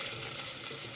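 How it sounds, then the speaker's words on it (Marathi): Chopped onions frying in a pan, a steady close hiss of sizzling filling the whole second without pause or voices. "सो काने न्ही हांवें 1-2 मिनटां फ्राय करून घेतला"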